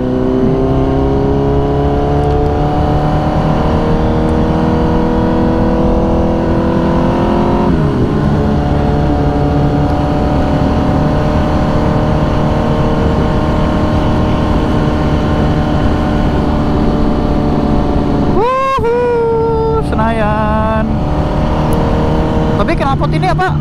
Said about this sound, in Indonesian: Knalpot ini apa suaranya tuh emang begini ya